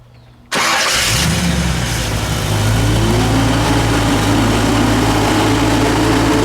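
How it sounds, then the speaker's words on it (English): A 1961 Chevrolet Impala with a 348 V8 roars to life from quiet, settling into a loud, continuous rumble with rising revs and a deep exhaust note close by. "We'll let it idle. I'll stand behind it. We'll get a little exhaust for you. We'll give it a rev."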